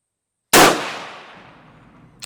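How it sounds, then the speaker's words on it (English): A single sharp rifle shot fired at a target, loud and close, with an echo that trails off over about a second and a half in otherwise quiet surroundings. "So I'll make an adjustment and we'll see where the second shot lands."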